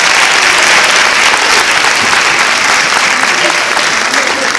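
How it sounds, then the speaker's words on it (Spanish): Loud, thick audience applause greets a performing group at a Spanish-language event. The clapping stays dense and steady from start to finish, close and full, with no clear talk above it. "Recibamos a este maravilloso grupo con otro fuerte aplauso."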